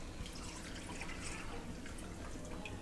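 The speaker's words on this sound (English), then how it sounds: "pour that milk in with your 4 tablespoons of unsalted butter" Milk pours into a pan holding four tablespoons of unsalted butter for a brunch recipe, a faint, soft liquid trickle with light splashes, quiet and continuous.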